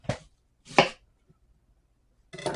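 A kitchen knife chops down through an onion half on a cutting board in three sharp, close strikes, with a clear pause between the second and third.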